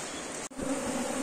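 Honey bees buzz densely around a hive as it is removed. The swarm hum is steady and close, with a brief dip before it swells again, and no one talks.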